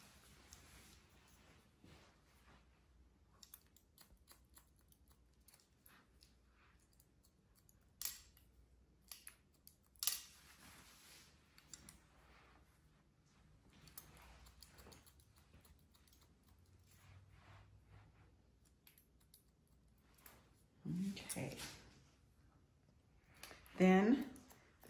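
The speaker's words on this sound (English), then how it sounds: "And then just open and shut your shears" Hair shears snip short hair in a pixie cut with scattered quiet clicks and a few louder bursts of cutting near the end. A voice talks at times in between.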